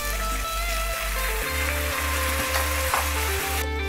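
Chopped tomatoes go into a hot pan of oil with cut ginger, cashews and green chili for restaurant-style malai kofta, giving a loud, steady sizzle and frying crackle throughout with bursts of stirring.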